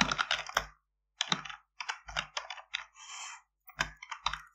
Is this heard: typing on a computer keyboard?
yes